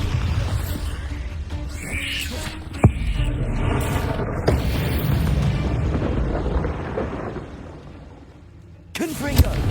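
A Bombarda spell fires in Hogwarts Legacy, bursting with several booming blasts and pops over a rumbling, layered game soundscape.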